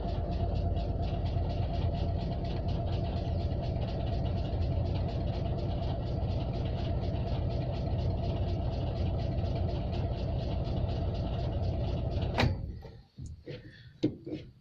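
An Invacar's engine cranks over steadily with carburettor fuel trouble, a continuous loud mechanical churning lasting about twelve seconds before it stops abruptly, followed by a few clunks.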